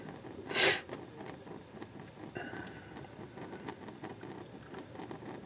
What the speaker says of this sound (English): Sorry I'm sniffing, kind of getting over a little bit of a cold